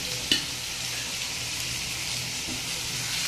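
Bottle gourd leaf fritters fry in hot oil with a steady, dense sizzle that fills the whole clip, broken by a faint clink or two near the start.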